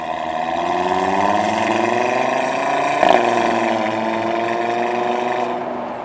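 An Audi TT RS Mk. V five-cylinder runs in Sport mode with its exhaust flaps open, a loud, close, rising and falling engine drone with a brief sharp crackle midway, heard alone without talk.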